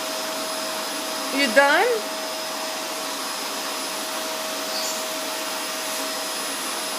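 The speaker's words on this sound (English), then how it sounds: "Time to fight with that vacuum." A household vacuum cleaner runs with a steady, unbroken whine from start to finish, and a brief voice speaks early on over it.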